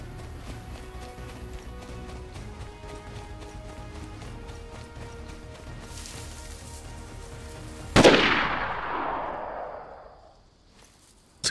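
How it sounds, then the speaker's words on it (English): A single sharp gunshot rings out in the DayZ video game, loud and sudden over a steady background of game ambience and music, then trails off in a long fading echo. "See, that was a very quick shot"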